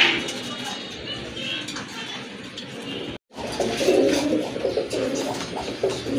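Pigeons coo softly at close range in a loft of fancy pigeons, with light clinking and someone talking over the birds throughout.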